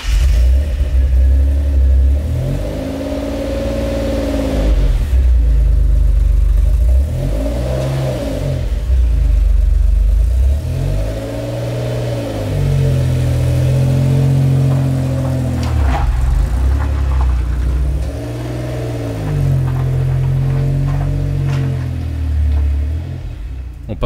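An Alfa Romeo 156 GTA V6 engine revving hard in repeated bursts, each throttle blip climbing and falling back, loud and close with a deep rumbling tone.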